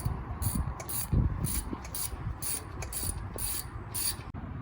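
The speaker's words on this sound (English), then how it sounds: "took off this screw on the top" A screw is worked loose from the brake of a 2004 Nissan Murano with a ratcheting tool, making repeated short, close clicking bursts in an even rhythm, with no talk.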